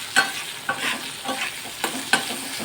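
Jackfruit seeds frying in a pan with a little salt, a soft steady sizzle broken by several sharp scraping stirs of a spoon against the pan at irregular intervals.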